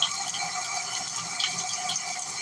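Hot water runs steadily from a kitchen tap over a knife blade during cleaning, a continuous hissing stream. It is fairly faint, even and alone without talk.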